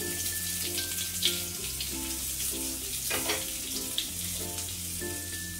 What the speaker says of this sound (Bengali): এটাকে ভালো করে ভাজবো।